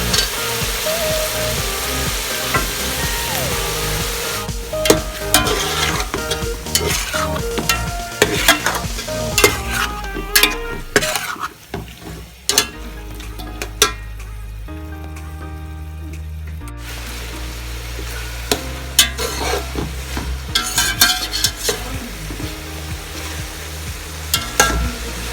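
Qeema frying with potatoes and a splash of water stirred in, close sizzling and repeated clattering stirs, a brief wetter hiss as the water goes in, then more scraping and bubbling, no talk.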